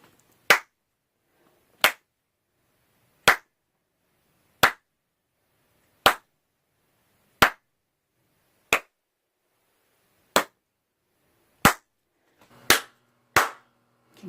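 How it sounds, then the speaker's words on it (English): Eleven sharp single hand claps ring out one at a time in a studio room, evenly spaced about every second and a half, each followed by a short decay that tests the room's acoustics, with the last few coming closer together. "So right now I'm going to clap first"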